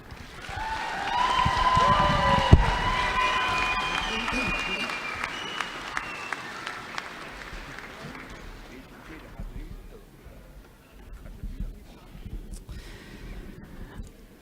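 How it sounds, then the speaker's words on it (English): An audience at a graduation commencement applauds. A broad wash of clapping swells and slowly fades, with a voice speaking over it early on. "Now join me for a round of applause for the 2025 graduate and the proud family and friends."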